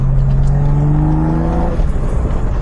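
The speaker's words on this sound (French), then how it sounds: "Le moteur prend hyper facilement ses tours." A modified BMW E21 with a lightened flywheel revs up quickly and drops back, its engine note close, loud and alone, rising sharply then falling away.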